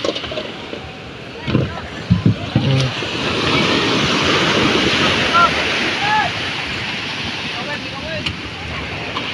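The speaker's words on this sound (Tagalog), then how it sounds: "Kasi maliliit na nga yung alon eh." Small waves washing and lapping nearby, a steady watery rush with low splashes, while voices talk over it.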